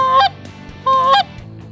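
Two loud, nasal goose honks from a blown waterfowl hunting goose call, evenly spaced with a short pause between them, close up, blown across the reeds.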